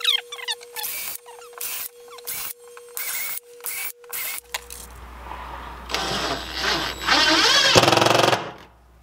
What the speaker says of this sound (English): I'm just pre-drilling some holes.